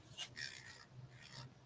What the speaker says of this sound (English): it's nice to have the bigger sanding band